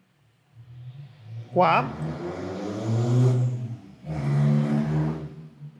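A car passes by outside, a muffled engine rise and swell lasting a couple of seconds beneath someone talking nearby indoors.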